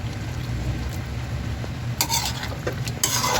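Chicken liver menudo is stirred as cornstarch goes in to thicken it, giving a close, steady scraping and stirring against the pot over a soft sizzle, with a few sharper utensil clinks near the end.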